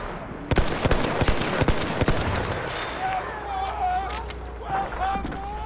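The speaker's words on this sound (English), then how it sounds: "Look out, machine gun." Rapid machine-gun bursts in a World War I shooter on the Fao Fortress map, with the Mondragon rifle in play. The fire comes as sharp repeated cracks over a busy battlefield din, and voices talk over part of it.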